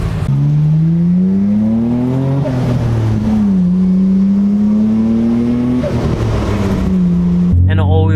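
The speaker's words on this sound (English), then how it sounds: "Do you hear the blow-up valves?" A Nissan Skyline R34 GT-R's turbo blow-off valves release short hissing bursts at each gear change as the engine repeatedly climbs in pitch under hard acceleration, loud and close from inside the car with the windows open.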